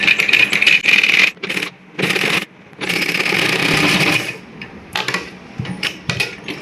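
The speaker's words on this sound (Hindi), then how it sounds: "मैं मशीन पे कच्चा कर रही हूँ।" A sewing machine basts cloth for an Afghani palazzo and suit made from a dupatta, running in fast whirring bursts of a second or two with short pauses between, close and fairly loud.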